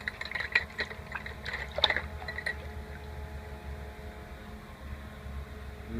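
A stainless steel part just electro-cleaned with a TIG setup is dunked into a bucket of water, giving a short burst of splashing and bubbling fizz that fades into a quiet hiss.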